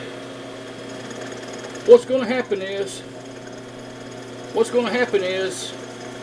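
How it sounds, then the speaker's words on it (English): A drill press fitted with a 3-inch hole saw hums steadily in the background while someone speaks over it. "fire up the drill press"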